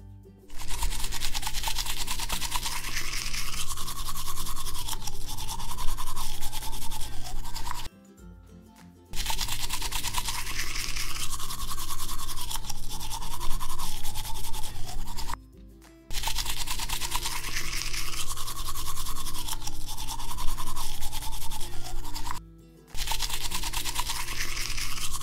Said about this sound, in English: I'll brush his teeth right now.